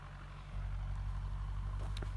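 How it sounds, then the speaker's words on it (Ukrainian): A YuMZ tractor diesel engine idles nearby with a steady low rumble and throb, its loudness stepping up slightly partway through and holding even, no talking over it. "Зараз ще вам покажу, як там юмс працює, ох, коптить."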